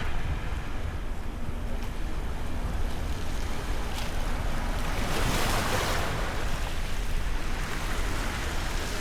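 Surf washes steadily onto a small beach along the Paphos seafront in Cyprus, a dense continuous roar of breaking waves with some wind rumble and no voices.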